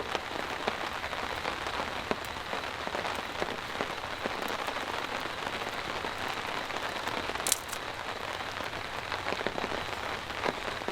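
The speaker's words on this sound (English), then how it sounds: "As soon as I lit this up, it started raining." Steady rain patters on a camp tarp shelter over an elevated fire, an even wash of close drops for the whole stretch, with one brief sharper crackle partway through.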